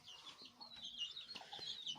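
Soft hen clucks with thin, high peeps from her single chick scattered throughout, close by and fairly quiet, with no talking.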